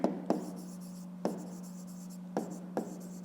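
Pen strokes writing numbers by hand on paper during a fifth-grade maths exercise: a few sharp, quiet scratches and taps spaced over about three seconds, close up, over a steady low electrical hum, with no talk.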